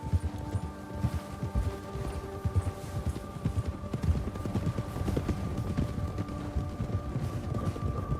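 Horse hooves clip-clop at a steady, rhythmic walking pace in Red Dead Redemption 2, close and continuous over a low ambient background.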